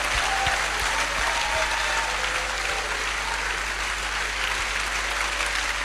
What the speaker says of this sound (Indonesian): Tepuk tangan yang sangat meriah saudaraku.